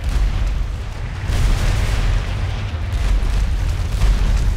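Meteor explosions in the video game Magicka: a loud, continuous rumbling roar of overlapping blasts and booms that swells slightly midway and holds steady throughout.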